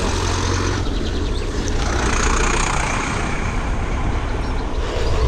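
Tractor passing on a rural road in the New Forest, a loud rumbling engine and heavy roar close by, mixed with wind and road noise throughout, no talking.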